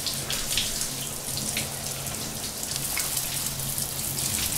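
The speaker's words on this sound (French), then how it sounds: "la douche c'est un vrai moment de bonheur" A shower runs after a long jog, its spray giving a steady, even hiss of falling water that stays constant and close, with no voices.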